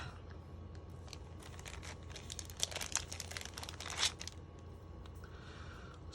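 Pieces from a Stampin' Up! Paper Pumpkin craft kit are handled up close, with soft crinkling and short sharp tearing sounds of paper and tape, quiet and intermittent.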